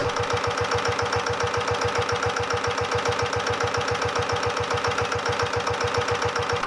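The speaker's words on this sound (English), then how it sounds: "The Petter PAZ1 uses direct injection, offering reliable starting and slightly higher usable power." Vintage Petter PAZ1 direct-injection engine running at a steady speed, its single cylinder thumping in an even, rapid beat with a mechanical clatter, close and alone.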